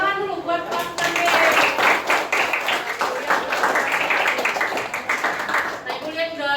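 A classroom of pupils claps together for a fellow student after a fractions lesson, a brisk ragged burst of hand claps mixed with children's chatter.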